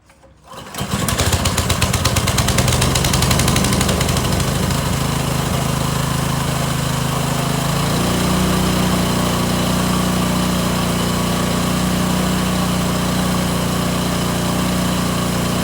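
A lawn mower starts up and then runs steadily and loudly while scalping a Bermuda grass lawn. Its engine note drops slightly partway through as the cut settles in, and no one speaks.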